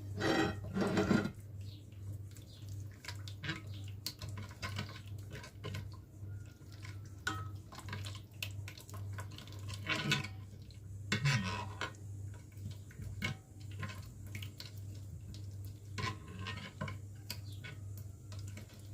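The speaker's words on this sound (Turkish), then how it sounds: "Bunları şimdi şöyle bir karıştırayım. Bir kaşık yardımıyla." A spoon clinks and scrapes against a bowl while stirring a sunflower oil mixture for pastry dough, giving faint, irregular taps and ticks over a steady low hum, with no talk.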